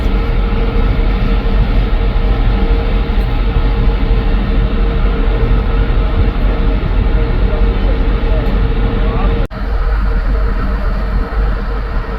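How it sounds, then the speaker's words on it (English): A steady, loud mechanical rumble and hum of the Panama Canal's electric towing locomotives running on rails nearby, continuous with a brief dip near the end. "those little trains are those electric tugs"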